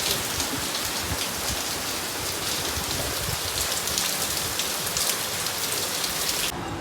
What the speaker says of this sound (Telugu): పొద్దునంతా భరించలేని ఎండ ఉంది సడన్గా ఇంతటి వానని